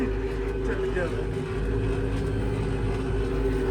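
A John Deere 5075E tractor pulls a disc harrow through a field in the rain, its engine holding a loud, steady, continuous drone with no breaks.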